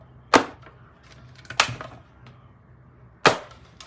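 A small blue mini die-cutting machine presses a border die, giving three loud, sharp cracks or snaps spaced apart, close by, with quieter rustling and creaking between them.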